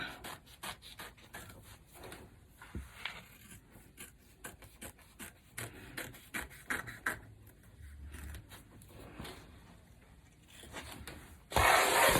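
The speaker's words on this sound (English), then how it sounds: "take your same applique scissors and you're gonna cut close to the edge" Applique scissors snip fabric close to the edge of an in-the-hoop owl stuffie, a quick series of soft, close cuts and rustles with short pauses, ending in a louder handling rustle.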